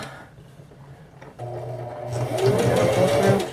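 A sewing machine stitching fabric for a McCall's M7719 garment starts up after a quiet moment, running with a steady mechanical whir that grows louder and faster, up close with no talking.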